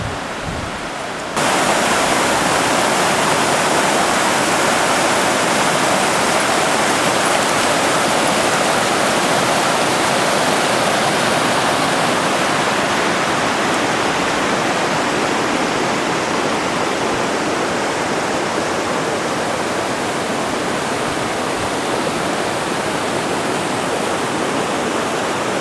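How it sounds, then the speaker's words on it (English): Pine Creek on the Pine Creek Trail in Sabrina Basin, water sheeting down the rocks: a loud, constant broadband roar of cascading water that holds steady and dense throughout, with no pauses. "There's Pine Creek way up there, sheeting down the rocks."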